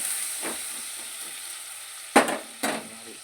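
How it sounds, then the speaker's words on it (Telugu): Turmeric stirred into food frying in a pan, a steady soft sizzle and hiss interrupted by a couple of sharp, close scraping stirs near the end. "పసుపు వేసి బాగా కలుపుకోవాలండి"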